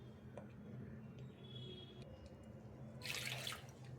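Water splashes into a mixer jar in a short burst toward the end, close and clear, after quiet kitchen background with faint ticks.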